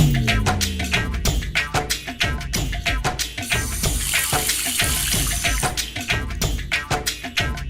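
Kitchen utensils being washed under a running tap, steady splashing water with rapid clinks and knocks of metal and dishes, close and continuous.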